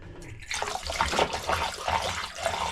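RV antifreeze poured down a camper shower drain runs in a steady, gurgling splash of liquid, starting abruptly and continuing close and moderately loud.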